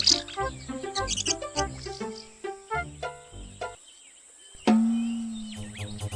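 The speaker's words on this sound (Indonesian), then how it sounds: "Itu burung." A bird chirps and tweets in a busy run of bright, quick notes, then a short pause and a sustained tone before more chirps, clear and close with no talking.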